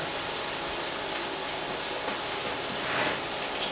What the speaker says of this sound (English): I'm going to put a little bit of water, just a touch, and we're just going to steam it like that.